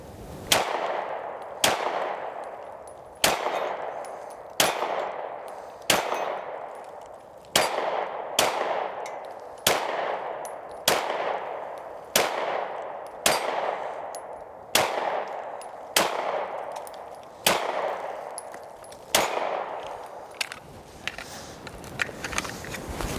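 Taurus G3 full-size pistol firing 124 grain ammunition: a steady string of about fifteen loud, sharp shots, each ringing out briefly, spaced under two seconds apart, with no talking.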